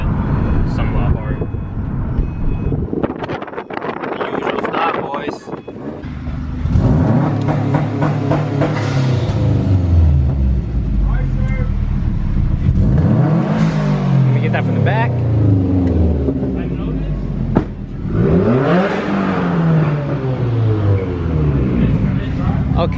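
A 2008-2014 Subaru WRX fitted with an Invidia catless downpipe revs and accelerates in several loud sweeping pulls. The engine note rises and falls repeatedly, and voices talk over the exhaust.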